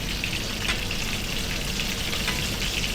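Food sizzles and fries steadily in a pan, lightly salted, with a dense, even crackle holding close and loud throughout.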